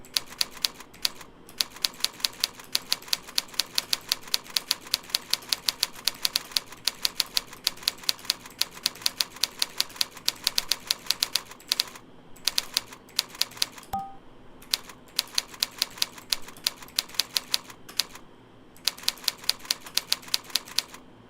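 Rapid touch typing on a computer keyboard, a dense, steady stream of crisp key clicks with brief pauses between bursts, close and clear with no talking.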